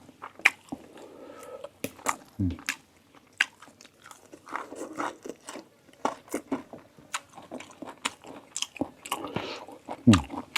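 Close, crunchy chewing and biting of a large mouthful of tilapia curry with vegetables, irregular wet crunches and smacks spread across the stretch, fairly quiet overall.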